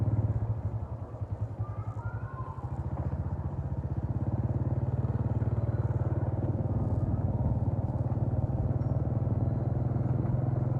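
A motorbike rides around a local market, its engine a steady close low thrum with rapid pulsing that holds throughout, briefly dipping early before settling into a constant cruising drone.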